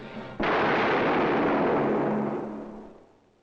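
A single loud gunshot in a Cold War era film, a sharp onset followed by a long booming roar that gradually decays over about three seconds, with no voices.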